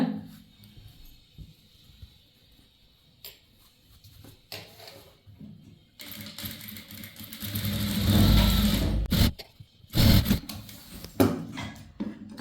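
A sewing machine runs in bursts while stitching a chudithar pant, starting with a long continuous run of stitching, then a brief pause and a shorter burst. Lighter handling noises come before the stitching.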